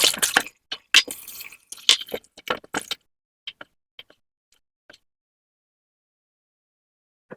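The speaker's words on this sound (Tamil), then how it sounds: "இப்போ நாங்கள் ரெண்டு மூன்று தண்ணியில் கழுவி எடுத்துக்கொள்ளுவோம்" Green peas being washed in a bowl of water for a pea sundal dish, wet squishing and sloshing handfuls in quick bursts at first, then sparse soft drips and splashes trailing off into quiet.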